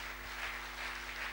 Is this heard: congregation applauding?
yes